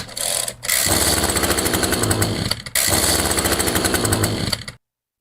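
An Echo GT-200 string trimmer engine with the choke on fires up into a loud, buzzing, rattling run close by, briefly dropping out and catching again before cutting off abruptly.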